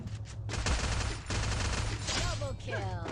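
Pistol gunfire in a video game, several sharp shots cracking in quick succession over a steady low hum, with whistling ricochet-like tones near the end.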